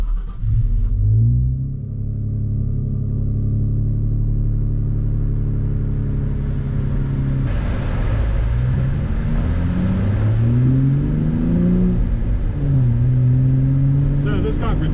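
Road noise from inside a car with Dynamat installed in the trunk: a low engine rumble and a tire drone, with rising and falling revs as it accelerates through the gears, steady and fairly loud, with no one talking.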